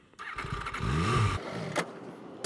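An MV Agusta F3 800 motorcycle cranks and catches, its engine rising briefly in a rough, close roar before cutting out and stalling, ending with a sharp knock.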